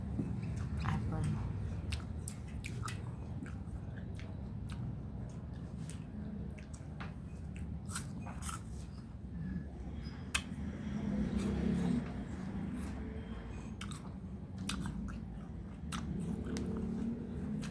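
Someone bites and chews a sweet apple, making repeated crisp crunches and wet chewing through a long stretch, while people talk quietly under it.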